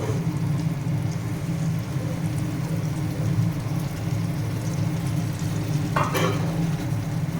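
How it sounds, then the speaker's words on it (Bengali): Masala for chicken kosha sizzles hard and continuously in a pan, a dense close frying hiss with faint stirring scrapes and one brief clatter near the end. "মশলাটা ভালো করে কষিয়ে নেব।"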